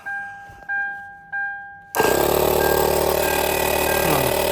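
A small 12-volt car tyre air compressor gives three short electronic beeps, then switches on with a loud, harsh, steady mechanical buzz that runs on without pause.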